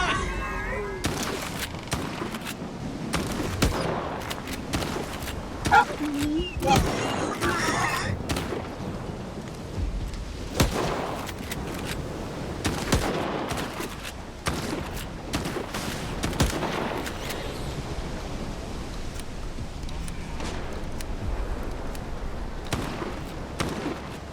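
Repeated heavy-calibre gunshots in STALKER 2, sharp loud reports in irregular bursts close by, mixed with scattered impacts and some voices.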